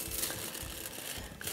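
Coconut cake wrapped in paper, giving soft crinkling and crumpling of the paper throughout, close and fairly quiet, with no talking.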